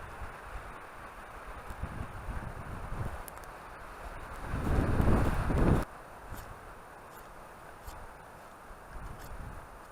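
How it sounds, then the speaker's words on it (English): Wind blows through damp woods at a wet overnight bushcraft camp, rumbling and buffeting the microphone with low gusts, swelling to a stronger rush midway before easing back. "It's very windy."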